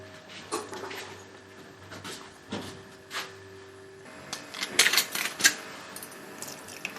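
Drinks are poured away, liquid splashing and trickling into a sink amid knocks and clinks of glasses, close by, with no one talking.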